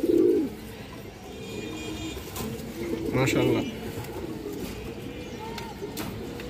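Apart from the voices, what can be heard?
pigeons cooing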